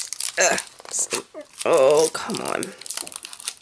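Beaded garland packaging is handled and pulled open, with plastic crinkling and tearing in bursts alongside a person's frustrated voice, near and fairly loud.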